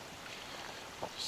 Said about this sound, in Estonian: Vesi tuleb vulinal.